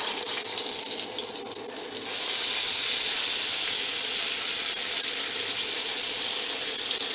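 A pork steak sizzles steadily in a frying pan after being flipped, a continuous close hiss with a brief dip near the start and no talking.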